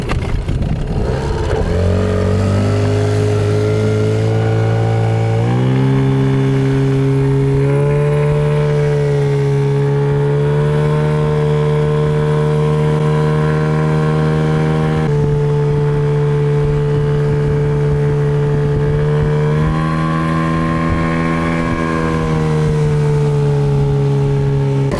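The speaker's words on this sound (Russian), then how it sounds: "давайте посмотрим, как поедет мотор на масле Ямалюб двойка" An outboard two-stroke boat motor running on Yamalube 2-stroke TC-W3 oil, heard close and loud as a steady engine drone that rises in pitch after starting and holds for about twenty-five seconds with slight shifts in revs.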